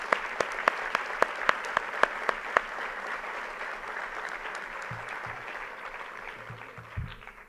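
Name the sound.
audience applause for Politécnico students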